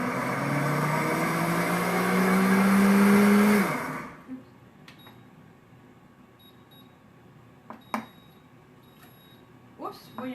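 A blender whirs loudly, blending smoothie ingredients for about four seconds, its motor pitch rising slightly before it shuts off abruptly; a few faint clicks and small knocks follow in the quiet.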